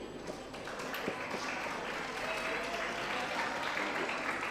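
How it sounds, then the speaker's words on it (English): An audience at an English Fest 2024 stage contest claps for a contestant: steady, moderately loud applause from a crowd throughout, with faint voices mixed in. "Let's give a round of applause to contestant number 3."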